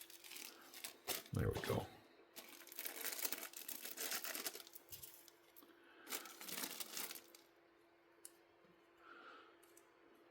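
A plastic baggie crinkles close up as knife parts from a Bestech Starfighter are put away, bursts of rustling and handling in uneven clusters, with a brief spoken remark.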